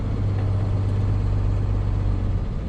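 A tow truck engine idles and rumbles low and steady while backing up toward an abandoned car in a parking lot, a close, continuous hum without talk.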